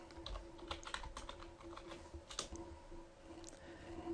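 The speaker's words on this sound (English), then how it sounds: "We can type some text into it" Quiet, close tapping of keys as text is typed on a computer keyboard, an uneven stream of soft clicks without any talk.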